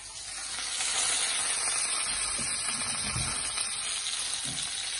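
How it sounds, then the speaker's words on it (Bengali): Fish fries in hot oil in a home kitchen, giving off a steady, fairly loud hissing sizzle that swells early and then holds evenly, with a few low bubbling pops beneath it and no voices. "এই তেলের মধ্যে দিয়ে দিলাম মাছটা, একটু ভেজে নেই"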